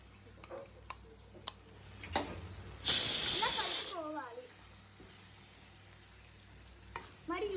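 Mustard-seed tempering crackles and sizzles in a pan for tomato chutney, with scattered ticks and clicks from stirring and a brief louder burst of spatter midway.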